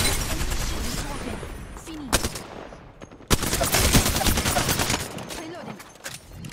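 Rapid automatic gunfire in Apex Legends, dense close bursts of shots with brief gaps, loud and continuous, with game voice lines and talk mixed in.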